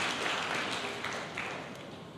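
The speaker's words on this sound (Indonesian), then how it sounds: "Berikan tepuk tangan yang meriah buat Tuhan" A church congregation bursts into warm, sustained applause, a dense wash of clapping that gradually fades, heard indoors with no one speaking over it.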